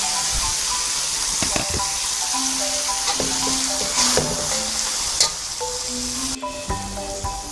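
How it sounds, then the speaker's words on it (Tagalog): Jute leaves (saluyot) hit a hot pan for ginisang saluyot, raising a loud, continuous sizzle with occasional stirring scrapes and clinks. "Ngayon po ay ready na pong ilagay ang saluyot."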